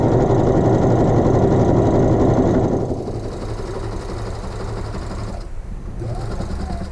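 A sewing machine runs a straight stitch through a square of muslin, a steady close mechanical whir that drops slightly in level partway through, with a brief pause and then resumes.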